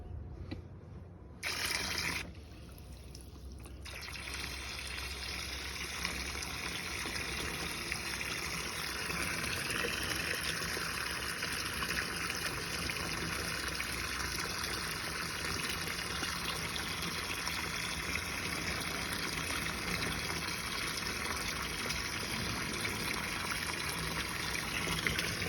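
Water runs steadily into a Red Sea Reefer aquarium tank being refilled after a leaky front seam repair, a continuous trickling gush after a brief start, with no speech.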